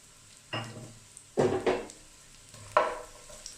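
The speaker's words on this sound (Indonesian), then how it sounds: "Jadi saya akan tumis bawang bombaynya dulu supaya aromanya keluar" Onions sautéing in butter in a pan for a ground beef bulgogi, with three separate bursts of sizzle and stirring scrapes between quieter gaps, close and fairly loud.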